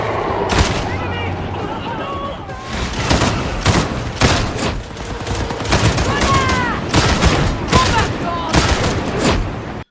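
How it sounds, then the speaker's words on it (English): Autogun hip-fire from Warhammer 40,000: Darktide, loud repeated bursts of rapid shots with brief pauses between volleys, over a dense backdrop of game combat noise. "By hip firing this gun and walking up to them, you can suppress and get close at the same time"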